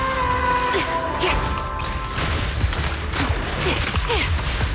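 A rapid burst of gunfire in the video game Zenless Zone Zero sounds loud and close, with crashing impacts and ringing tones.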